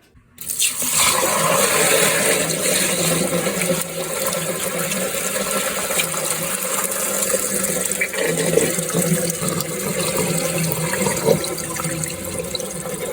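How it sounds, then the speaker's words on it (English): A bucket of water and elderberries is poured into a colander, giving a steady, fairly loud rush of splashing and draining water that runs continuously for over twelve seconds with no talking. "So you saw me drain the bucket of elderberries into the colander."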